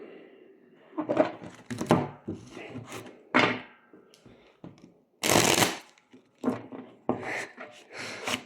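Bursts of card shuffling, riffling and tapping in short uneven runs, with one louder, longer riffle near the middle; close and fairly loud, no talking.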